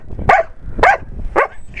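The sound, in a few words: dog barking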